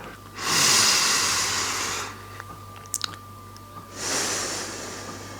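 During a lower-body yoga stretching routine, two long, loud, airy breaths come close to the mic, separated by a quieter pause with a couple of small clicks.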